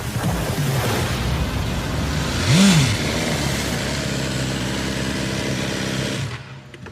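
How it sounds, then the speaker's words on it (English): A BMW S 1000 R motorcycle engine runs steadily and loud throughout, with a brief surge of revs partway in, then the sound cuts off abruptly near the end. "hear Chris Pfeiffer doing what he does best, riding the wheels off the S1000R"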